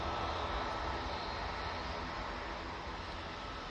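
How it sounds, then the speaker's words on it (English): A Ryanair Boeing 737 MAX 8 rolls down the runway for takeoff at Manchester Airport, its jet engines a steady broadband roar that holds constant and fairly distant throughout, with no voices. "Ryanair 737 MAX 8"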